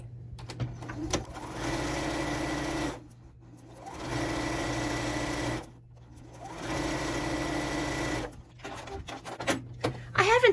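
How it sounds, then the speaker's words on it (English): Sewing machine stitching fabric makeup remover pads, running in three steady bursts of about three seconds each with short pauses between, close and even, with snipping and handling noises at the end. "And I will sew down on this side."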